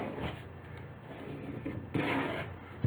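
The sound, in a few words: burnishing an object by rubbing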